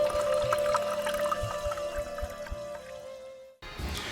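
Tassay mineral water pours steadily with a bright ringing tone and light splashes, then cuts off abruptly near the end before a brief burst of noise.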